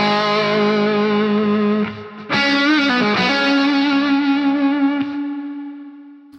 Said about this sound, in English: so let's try the Octaver 2.